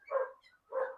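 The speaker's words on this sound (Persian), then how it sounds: "ببین الان سگ این تدی داره پارس میکنه" A nearby dog gives two loud, close barks in quick succession, with a short gap between them, heard in a home in Brisbane.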